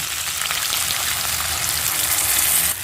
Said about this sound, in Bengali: এবার তেঁতুলের জলটা দেবো